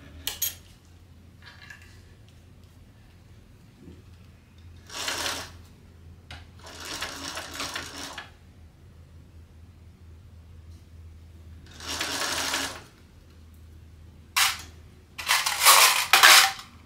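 A sewing machine stitching a straight seam along an edge guide on a topstitching table, in several short bursts of whirring separated by pauses, close and fairly loud.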